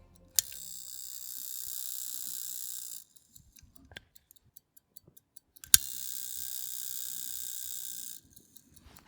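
The governor of an antique gold pocket watch whirs in two bursts of about three seconds each, each set off by a sharp click of the side lever, with faint ticking and clicks in the pauses.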